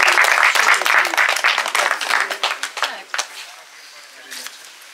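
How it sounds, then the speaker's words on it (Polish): Crowd applause at a beach metal-detecting championship prize ceremony, dense clapping loud at first, then thinning and fading to scattered claps by the end. "I wielkie brawa!"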